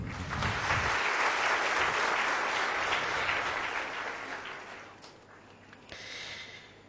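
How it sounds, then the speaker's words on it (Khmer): Audience applause at a public speech on politics and the nation: a dense burst of clapping from a crowd that holds steady for several seconds, then thins out and fades, with a brief faint flare near the end. "សូមអបអរសាទរ"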